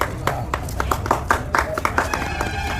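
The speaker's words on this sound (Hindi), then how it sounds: "ताली हो जाए नीलेश के लिए।" Scattered, uneven clapping from a group honouring an exam topper at a study-group event, a handful of distinct claps close by mixed with a voice talking over them.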